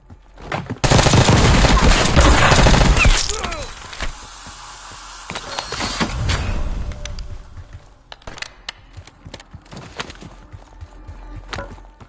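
Heavy automatic gunfire in Warzone on Rebirth Island, a loud sustained burst for a few seconds, then scattered shots and distant firing, with in-game callouts and footsteps underneath.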